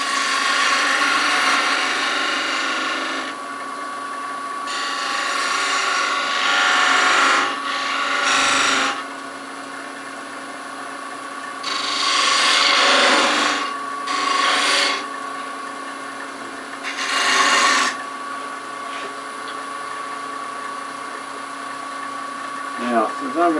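A detail gouge cuts wood on a lathe while turning a baby rattle, giving bursts of raspy, hissing scraping that come and go in repeated passes over a steady motor whine, close and fairly loud.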